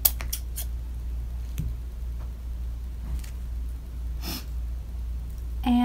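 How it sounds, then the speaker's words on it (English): Scissors snip through a pipe cleaner during a caterpillar craft, giving a few short, close snips over a low steady room hum. "Now, you'll take a pipe cleaner and you're going to cut it in half."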